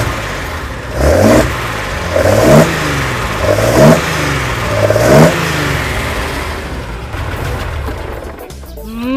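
A Nissan L-type engine in a Fairlady Z S30 revs four times in a steady rhythm, each rise sharp and falling back to idle, then settles into a rough, rumbling idle.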